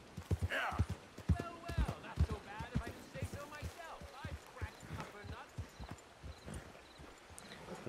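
Horse hooves clip-clop in Red Dead Redemption 2, a steady run of moderate hoofbeats mixed with game sounds while someone talks over them.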